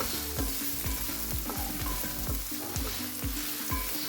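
Capsicum rice mixture with turmeric powder being stirred in a pan, a steady run of spoon scrapes and clinks over a continuous sizzle, close and fairly loud with no voice.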